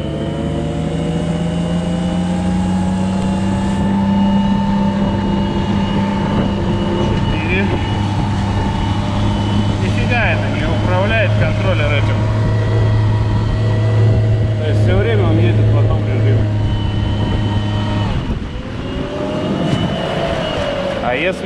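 Homemade electric outboard boat motor running in economy mode at first speed, about 30% power: a steady, loud electric whine with stable tonal hum throughout, under continuous nearby noise.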